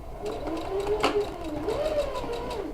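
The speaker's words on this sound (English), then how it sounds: "I'll take this to the machine and I'm just going to sew this tiny little seam" Sewing machine stitching a tiny seam on a quilted coat, a brief soft whir running close for under three seconds with a faint voice-like tone over it.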